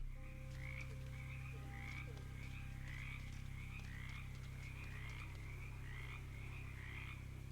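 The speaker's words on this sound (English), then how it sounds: "Distant frog sounds become less distant frog sounds as you find yourself very close to a lot of frogs." Frogs croak in a repeating, rhythmic chorus over a steady low hum in a bog in the video game Shadows over Loathing, fairly close and continuous.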